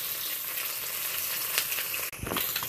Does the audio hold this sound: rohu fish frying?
yes